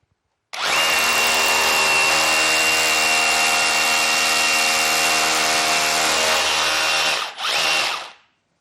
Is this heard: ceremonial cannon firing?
no